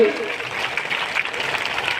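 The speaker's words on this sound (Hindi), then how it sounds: "आप सभी लोग ताली बजाकर पूरा स्वागत करिए" Crowd clapping at a political rally in Palamu welcoming Assam's chief minister. A continuous wash of applause, fairly loud and even throughout, with a voice faintly audible at the start.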